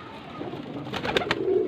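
A Cheena pigeon of the thread-marked type gives a short, low coo near the end, close by, over a faint steady background hiss.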